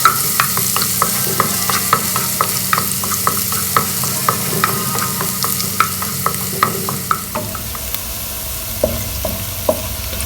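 Garlic paste fries in hot oil in a pan, a loud close sizzle broken by frequent sharp scraping taps of a spoon stirring at an irregular rhythm, with no talk.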